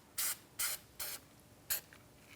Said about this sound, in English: I'm going to use this spray stuff.